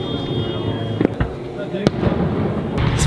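Fireworks burst over Cannes during the 2021 film festival, with several loud, sharp explosions in a few seconds against a constant wash of crackle and distant booms, while crowd voices and cheering carry on underneath.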